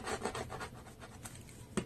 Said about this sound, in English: This is a really sharp blade, and I'm just going to just cut where my marks are.